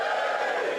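Studio audience at a comedy panel quiz show cheering and shouting together in a loud, continuous burst, sustained throughout with no talk over it.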